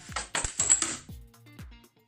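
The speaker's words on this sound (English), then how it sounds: "take the clippers and cut them into the proper size" Clippers snipping popsicle sticks to size, a series of sharp close clicks and small clattering pieces landing, spaced unevenly with quiet gaps between cuts.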